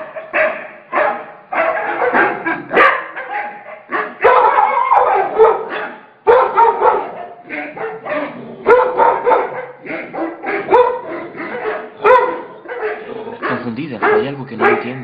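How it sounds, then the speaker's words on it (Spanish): Dogs barking on a screen, repeated loud barks and yips in quick irregular bursts with a few howl-like and whimpering tones, heard close with a person talking in between. "Son unos perros en la pantalla."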